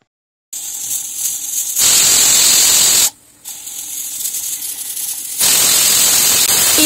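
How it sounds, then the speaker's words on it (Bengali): A pressure cooker on a stove whistles in two long loud hissing blasts separated by a short pause, steady and close, with no talk. "প্রেসার কুকারের ঢাকনা আটকে জাস্ট কিন্তু 2টো সিটি দিয়ে দেব।"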